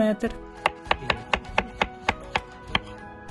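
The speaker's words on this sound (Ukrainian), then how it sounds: "У нас кабачки молоді, чистити від шкірки не треба. Просто нарізаємо товщиною приблизно 1 см." A knife chops steadily through young zucchini on a cutting board, slicing rounds about 1 cm thick, about a dozen crisp, evenly spaced cuts, close and clear with no talking.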